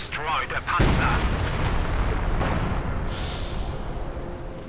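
A howitzer shell slams into a Panzer IV tank in a war video game, giving one heavy booming blast that rolls into a long, fading rumble.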